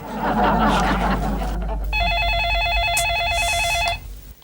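A telephone rings with a rapid electronic warbling trill lasting about two seconds, heard after a burst of background chatter and music.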